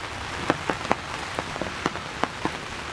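Heavy rain patters steadily at a deer blind in the evening, with distinct drops tapping loudly on a nearby surface at irregular intervals.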